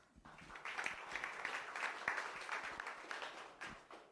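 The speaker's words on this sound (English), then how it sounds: "Applause." An audience at a venture capital panel event claps steadily for a few seconds, a dense patter of hands at moderate distance, fairly faint overall.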